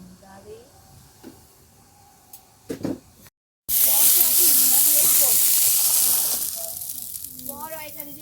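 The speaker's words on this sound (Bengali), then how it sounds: "ভালো একটু মটরশুঁটি একটু ভাজা করি" Green peas hit a hot pan with a sudden loud hiss that becomes a steady, close sizzle and eases slightly toward the end, after a few seconds of quiet household sounds and a brief voice.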